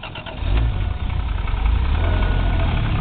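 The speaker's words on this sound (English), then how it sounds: "Now let's start up the black car." A black car with a suspected rod knock cranks and fires up, then settles into a steady low rumbling idle with a faint rhythmic knock, close and fairly loud.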